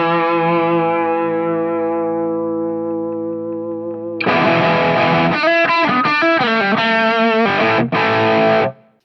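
Electric guitar played through a Headrush amp-modeling rig with hall reverb added, a sustained effected chord ringing out and fading before a loud, distorted burst of strummed chords with abrupt stops and a final cutoff.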